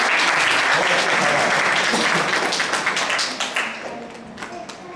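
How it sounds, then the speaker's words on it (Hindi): A crowd at a children's Mahashivratri gathering applauds a child with dense, loud clapping that thins out and fades over the last seconds, with a few faint voices underneath. "ताली बजाएं इस बच्चे के लिए।"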